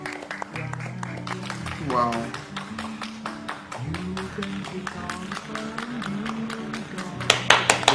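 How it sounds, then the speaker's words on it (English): A crowd in Thailand claps rapidly to cheer on doctors and nurses, producing dense, fast rhythmic clapping that builds toward the end, with people talking and exclaiming over it. "Clapping fast."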